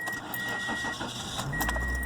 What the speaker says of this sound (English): the car struggled to start, which means it's not being charged correctly